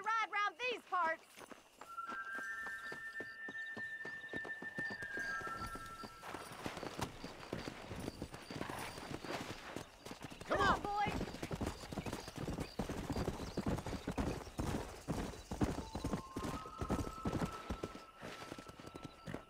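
A horse races at a gallop in Red Dead Redemption, its hooves beating a fast, loud clip-clop rhythm throughout, with a neigh near the start and voices talking over the running.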